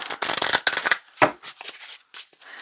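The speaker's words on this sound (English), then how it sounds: "so you don't have to look at the shuffle because it can take some time sometimes" A deck of tarot cards is shuffled by hand in quick riffling bursts, close and crisp, with brief pauses between passes and no talking.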